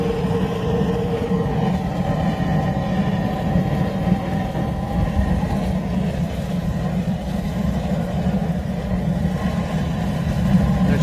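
A waste oil heater fitted with a burn bowl roars steadily with a loud, constant low rumble and whoosh, no pauses or changes throughout.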